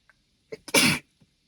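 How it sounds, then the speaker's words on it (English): A single loud sneeze with a quick sharp intake of breath before it, then silence. "I'm going to sneeze"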